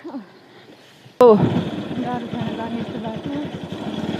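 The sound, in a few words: motorcycle engine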